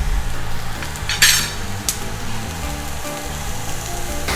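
Diced carrots going into a pan of lightly browned sautéed onion for a quinoa risotto: a steady low sizzle with scraping and stirring, a sharp utensil clank near the start and another tap shortly after, no voices.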